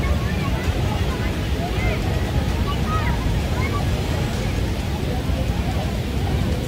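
Heavy water rushing out of a dam's floodgates during the monsoon, a steady, loud, broadband roar with no breaks, mixed with wind buffeting the microphone.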